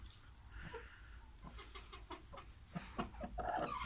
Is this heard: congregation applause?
no